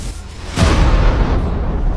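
Asteroid impact explosion effect: a sudden deep boom bursts in after a brief low rumble, then rolls on as a heavy, sustained roar.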